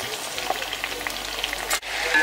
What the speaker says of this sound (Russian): И теперь мы мясо обжариваем с луком.